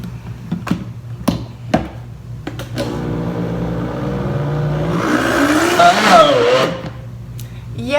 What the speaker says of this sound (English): I will keep going a little bit more in the Vitamix, give it another whirl